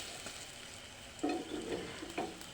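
Food fries in a pan on a gas stove and is flipped with a knife, a soft steady sizzle broken by a few short scraping and clinking turns against the pan, heard up close without talk.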